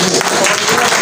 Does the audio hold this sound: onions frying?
no